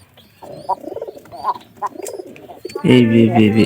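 A pigeon with a sore on its beak coos close by in short throaty bursts, then a louder, fuller coo swells near the end.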